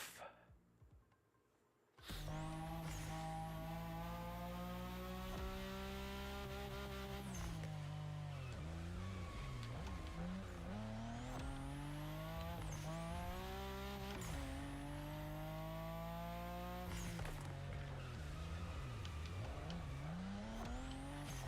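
Nissan Skyline GT-R R32 in The Crew Motorfest, its engine droning loudly and steadily with rising and falling revs through gear changes, tires squealing at moments, after a brief quiet start.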